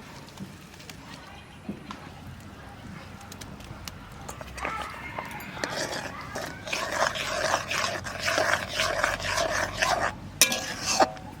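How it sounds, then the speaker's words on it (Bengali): Chopped bottle gourd goes into milk boiling on the stove for a sweet lau kheer, followed by stirring and scraping that grows louder and busier after the first few seconds, with a faint voice heard at moments. "এইবার এই দুধের মধ্যে আমি লাউটা এবার দিয়ে দিচ্ছি।"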